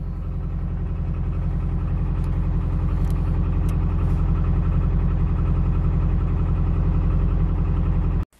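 Subaru Impreza 2.5RS GC8 with a newly installed electronic boost controller, its engine running at a steady, rumbling idle, close and continuous until it cuts off abruptly at the end.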